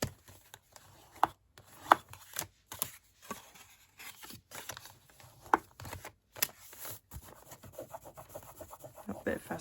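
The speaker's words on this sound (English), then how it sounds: "we will fold and burnish" Card stock for a gift box lid being folded and burnished, with scattered quiet rubs, soft scrapes and a few sharp creasing taps, close and faint, with no voice over it.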